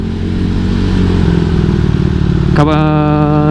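A motorcycle with a new 63-spec engine drones steadily while riding, loud and close; near the end the revs climb into a rising, harmonic whine.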